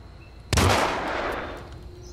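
A single loud pistol shot fires in the video game Hitman Beta: a sharp, close crack followed by a long, reverberant tail that fades over more than a second, with no talk.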